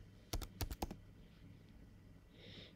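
A short burst of about five quick keystrokes on a computer keyboard, fairly close and clear, followed by quiet room tone with a faint hiss near the end.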